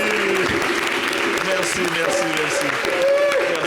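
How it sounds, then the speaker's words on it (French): A studio audience applauds on a French television talk show, the sustained clapping running under a host's voice. "On applaudit."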